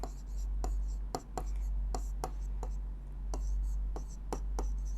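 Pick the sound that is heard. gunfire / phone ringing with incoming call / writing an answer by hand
writing an answer by hand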